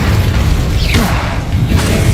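Incendio fire spell cast in Hogwarts Legacy, a loud dense rumbling boom with a whooshing swirl through the middle, no talk.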